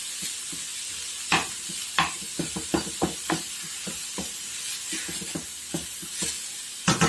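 Beef chunks sizzle steadily as they brown in a frying pan, with a constant hiss broken by frequent sharp crackles and pops from the hot fat.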